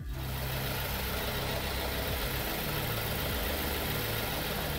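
A car engine idles steadily while automatic transmission oil is changed on a ZF 6HP19 gearbox, a constant low droning hum with faint higher whir, close and unbroken, no voices.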